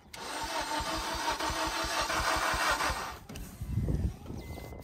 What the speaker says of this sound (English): All right, fire it up, see what she's got.